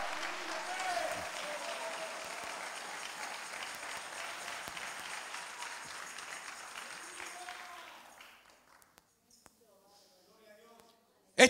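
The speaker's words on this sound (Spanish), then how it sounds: "que salgan esas palmas, que son para el Señor" Church congregation clapping their hands during a worship service in Santiago, Chile, a sustained crowd of applause with voices mixed in, fading out to near silence near the end.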